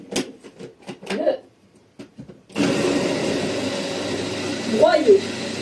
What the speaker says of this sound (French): déjà une demi-courgette, il faut déjà le mixer